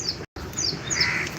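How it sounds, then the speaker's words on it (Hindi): Crows cawing from close overhead outdoors, several harsh calls overlapping in quick succession over faint background noise. "ये कौआ लोग बैठे हैं मेरे ऊपर, टाँय टाँय कर रहे हैं"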